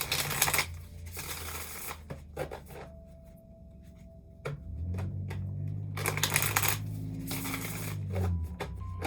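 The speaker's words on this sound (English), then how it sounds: "I'm going to do 2 more shuffles and then I'm going to cut the deck." A deck of tarot cards is riffled and shuffled by hand in several bursts of crisp, rustling flutters, with quieter pauses between and a low hum underneath.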